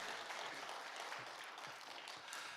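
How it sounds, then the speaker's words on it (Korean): Steady applause from a church congregation, filling the clip with dense clapping at moderate volume. "우리 모두 하나님께 영광의 박수를 드립시다"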